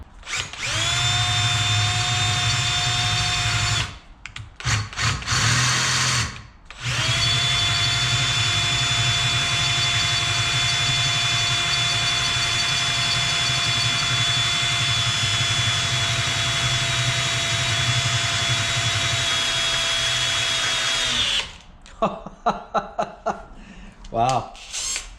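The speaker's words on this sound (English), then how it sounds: "I'm going to drill these holes out to accept these." A power drill bores out holes in a metal bracket for a 2004 Suzuki LTZ250 quad, a loud steady high whine running for long stretches, stopping briefly between passes, with a few clattering handling noises at the end.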